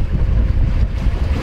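A sailboat motoring under engine in fog, a steady low rumble mixed with wind buffeting the microphone and water noise, loud and continuous with no voices.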